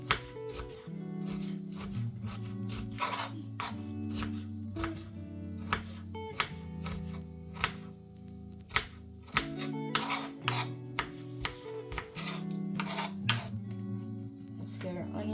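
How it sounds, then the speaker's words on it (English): A knife cuts sweet peppers on a cutting board, making repeated sharp taps and rasping slices under steady background music while a person talks. "Then we're gonna get our sweet pepper, cut these up."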